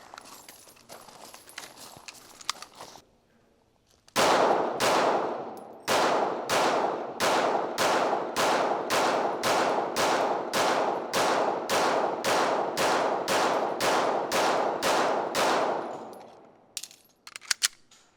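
Rapid rifle fire on an outdoor range, the rifle fitted with a SIG Sauer LOC mount: after a brief lull, about twenty loud, sharp shots ring out in a steady, evenly spaced string, followed by a couple of scattered clanks.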